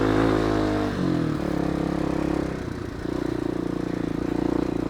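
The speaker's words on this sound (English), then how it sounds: "I have issues with the bogging down when I really rev it" Motorcycle engine revving hard, loud close roar that climbs, dips and bogs down, then rises again to a steady high drone.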